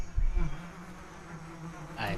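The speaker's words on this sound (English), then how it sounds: "Should I dunk a pair of bees on his head?" Bees buzz in the video game Metal Gear Solid 3: Snake Eater, a steady, droning insect hum that sits close and fairly loud throughout with faint ambient noise.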